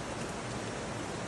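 Steady rain falling outside a living room garden, a dense even hiss of drops, constant and moderately quiet with no voices.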